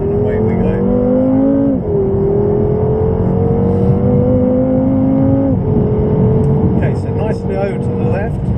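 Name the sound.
BMW M6 accelerating out of a corner at Goodwood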